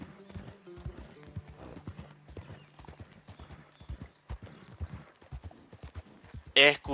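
Horse hooves in Red Dead Redemption 2 clop in a quick, uneven rhythm at moderate distance, mixed in with someone talking throughout and a sharp burst near the end.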